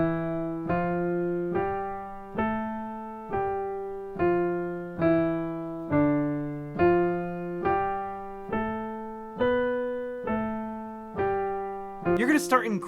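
Slow piano playing of the first Hanon exercise, a single clear note line stepping evenly in a regular rhythm, each tone ringing and decaying, ending with a brief clatter; close and alone.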